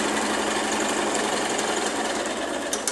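A sewing machine quilts rows of stitching through fabric layers, making a close, steady, fast mechanical whir with no talk.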